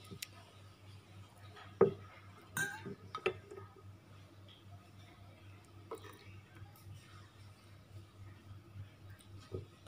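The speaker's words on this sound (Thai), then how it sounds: "เดี๋ยวเราจะจัดใส่จานนะคะ" Dishes clink as lod chong dessert is plated in a kitchen: a few sharp, isolated clinks and knocks spread over a quiet background.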